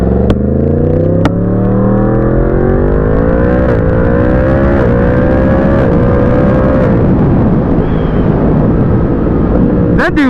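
A 2020 Yamaha MT-10 motorcycle engine revs loud and close, its pitch climbing steadily through the gears over several seconds with a few sharp pops, while wind rushes throughout.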